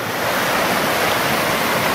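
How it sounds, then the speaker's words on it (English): A mountain stream on the Teton Crest Trail flows with a steady, broadband rushing wash close by, constant and unbroken, with no voices over it. "Another nice stream."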